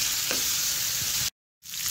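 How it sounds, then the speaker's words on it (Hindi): Chicken fries in a pan for a paratha roll, a continuous close sizzle with a couple of faint stirring knocks, cut by a brief silent gap before the frying resumes. "जब तक चिकन फ्राई होकर तैयार होता है"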